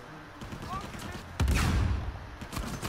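Game combat from Uncharted 4 with grenades and gunfire: a sharp, loud blast hits midway through, and a dense rumble of shots rolls on behind it while someone talks over the action.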